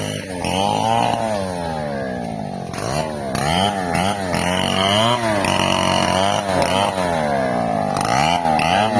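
A chainsaw cuts down mango trees, its engine loud and close, revving up and down in repeated rising and falling surges as it bites into the wood.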